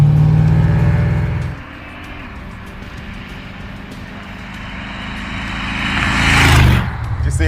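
Blown Jaguar engine in a rat rod revving through varying throttle on a dragstrip, loud and close: a low rumble that drops back to idle, then climbs to a sharp rising roar before cutting off, with voices talking over it.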